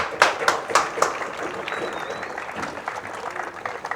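Spectators at a UK national RC car racing round at Herts applaud a 4wd A-final finisher: a few sharp, close claps open, then steady scattered clapping continues, with a commentator's voice over it.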